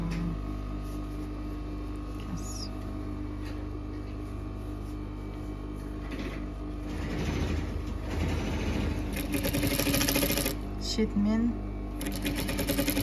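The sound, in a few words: sewing machine stitching the hem of an apron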